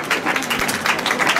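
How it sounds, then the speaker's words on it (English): Audience applause at a latte art championship, a dense, steady wash of many hands clapping fairly close for a short burst, with no talk over it. "Round of applause, everyone."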